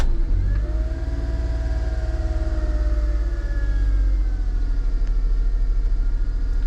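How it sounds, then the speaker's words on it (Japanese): A Suzuki Every Wagon (DA62W) engine, just started after an air filter and blower motor replacement, runs with a steady low rumble and a faint rising whine, idling close by without pause. "エンジンをかけてみます"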